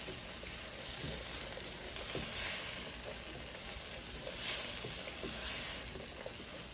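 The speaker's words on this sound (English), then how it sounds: "So now I'll just quickly saute it." Masala dosa filling sauteing in a pan, a soft continuous sizzle and frying crackle with faint stirring scrapes now and then, quiet and close, no voices.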